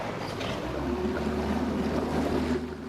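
A motorboat engine drones steadily as the boat runs across the sea toward a castaway on a beach, with a constant close rumble mixed with wind and water noise.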